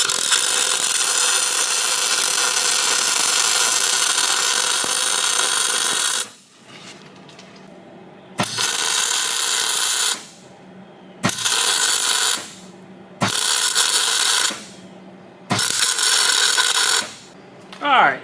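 Arc welding a sloppy, smoking root pass on a differential to burn off oil, heard as a loud continuous crackling hiss in about six bursts separated by short pauses.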